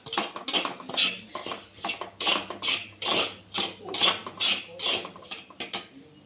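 A spoon scrapes and stirs turmeric and coriander powder roasting in a pan for a Kerala theeyal, making about a dozen close, rhythmic metallic strokes at a steady pace.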